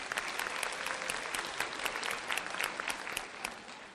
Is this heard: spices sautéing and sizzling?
no